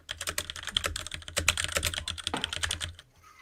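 Fast typing on a computer keyboard, a dense flurry of close, crisp key clicks with no pauses until it stops just before the end.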